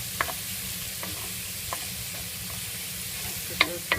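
Chopped onions sizzle in a pan with a soft, steady frying hiss, while a utensil stirs them with a few distinct taps and scrapes against the pan, heard close with no voices.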